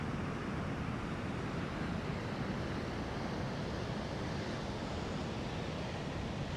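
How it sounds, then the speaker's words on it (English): Water rushing steadily through a lock on the Murray River, a broad, continuous roar that stays loud and even throughout with no voices. "a fair bit of water flowing through at the moment"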